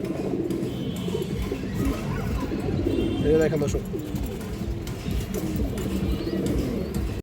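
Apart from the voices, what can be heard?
giribaz high flyer pigeons cooing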